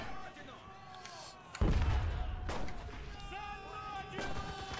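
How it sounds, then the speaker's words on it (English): A grenade blast in the World War II shooter Enlisted lands as a sudden loud boom with a rumbling tail, set among scattered gunfire and battle noise while someone talks. "get that grenade out"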